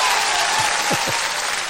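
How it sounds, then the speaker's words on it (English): A round of applause from a podcast or studio audience, dense continuous clapping throughout, with a few faint voices briefly breaking through underneath. "Give you another round of applause for that."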